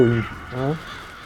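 Two harsh, drawn-out bird cawing calls in quick succession, loud and close, followed by quieter background, from the video game Billy Hatcher and the Giant Egg.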